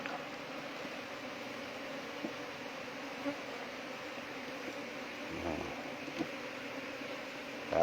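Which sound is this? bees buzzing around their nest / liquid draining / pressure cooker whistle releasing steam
bees buzzing around their nest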